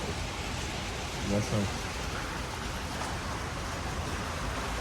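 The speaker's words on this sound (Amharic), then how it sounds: "ኃይለኛ ዝናብ እየዘነበ ነው።" Heavy rain falling, a dense, even wash of noise that stays constant and fairly close, with a brief faint tonal sound partway through.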